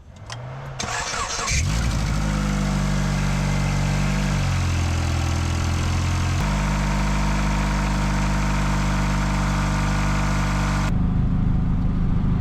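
A 1990-93 Honda Accord engine cranks and starts after a rack and pinion replacement, then settles into a steady, close idle, with a brief rise in revs midway while the power steering is bled.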